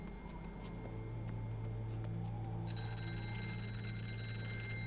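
Phone ringing in the horror video game Here They Lie, an electronic ring that starts about midway and repeats over low ambient hum, fairly faint, with no talking.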